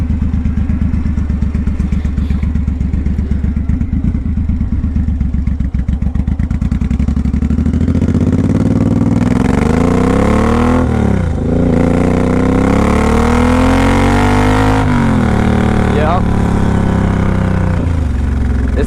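A 2014 Suzuki M109R Boss motorcycle thumps at a low, pulsing idle, then revs up hard and accelerates, its loud, close engine note rising and falling through several gear pulls.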